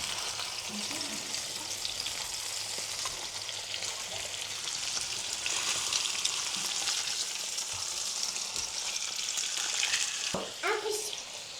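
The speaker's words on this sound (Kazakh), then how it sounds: "жағын аударып пісіріп аламыз" Salmon fillets fry in a hot pan with a dense, even hiss of spitting oil that holds steady throughout, close up, with a few faint bumps near the end.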